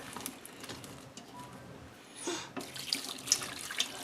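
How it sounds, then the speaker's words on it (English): Tap water runs steadily into an Instant Pot inner pot, a continuous splashing rush that brightens and thickens toward the end as the vessel fills. "now I'm going to put in enough water"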